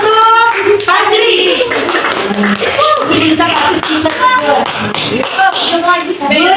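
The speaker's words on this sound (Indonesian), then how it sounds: "Tepuk tangan dulu." Schoolchildren in a sixth-grade classroom clapping their hands, loud close claps in uneven bursts mixed with lively overlapping children's voices and chatter.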